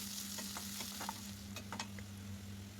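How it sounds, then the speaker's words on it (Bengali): Chopped onion and green chili stir-frying in oil in a wok, with a steady close sizzle under several scraping stirs of a spatula, with no talking. "কড়াইয়ে পরিমাণ মতো তেল দিয়ে কাটা পেঁয়াজ মরিচ দিয়ে দিব, দিয়ে ভালোভাবে নেড়েচেড়ে ভেজে নেব"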